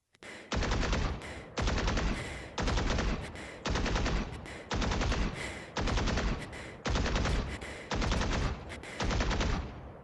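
A Vandal rifle fires in Valorant in nine loud, sharp bursts of automatic fire, each just under a second long and separated by short pauses, with no talking.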